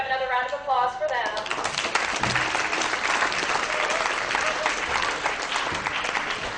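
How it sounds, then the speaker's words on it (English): At a high school political party forum, an audience gives a full round of applause for visiting representatives, clapping dense and sustained after a short voice at the start. "we should have another round of applause for them."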